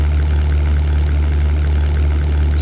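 A Bf-109 fighter's piston engine drones steadily in the flight game European Air War, a loud, constant low hum with no talking.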